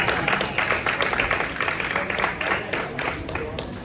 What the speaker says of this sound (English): please, big round of applause for our performance.